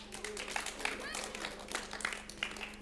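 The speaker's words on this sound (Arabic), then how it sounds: "تصفيقة حر عليها" An audience in a studio gives a steady round of clapping for a girl on a TV show, many hands at once and fairly faint, going on under a speaking voice the whole time.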